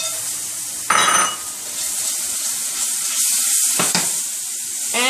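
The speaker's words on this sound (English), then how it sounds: "Now I'm going to toast my almonds." Almonds toasting in melted butter in a pan, a steady close sizzle and frying hiss throughout, broken by a couple of brief stirring or scraping bursts.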